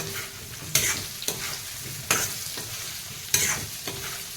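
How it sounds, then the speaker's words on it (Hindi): Potatoes frying in a pan over a medium gas flame for a spinach dish, a steady soft sizzle with a few louder stirring scrapes at intervals, no talking. "4 से 5 मिनट आलू को मीडियम फ्लेम में हम फ्राई होने देंगे।"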